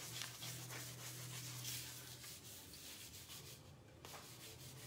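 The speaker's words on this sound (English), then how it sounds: "I'm just going to kind of rub it down to make sure it's down." Steady, close-up dry rubbing of a transfer sheet being pressed down onto a painted wooden board, a continuous scratchy friction that keeps going without pause and with no talk.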